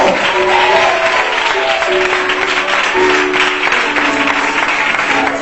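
A church congregation applauds loudly for God, steady continuous clapping with voices and tonal sounds mixed in throughout.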